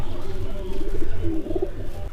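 Pigeons coo softly on a rooftop in low, rolling murmurs, nearby and continuous, against a faint background hum.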